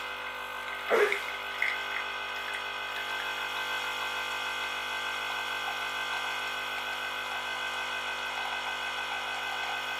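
A Lavazza Jolie Evo coffee pod machine brews with a steady whirring, gurgling hum, opening with a couple of brief clunks and hisses, close and continuous with no voices.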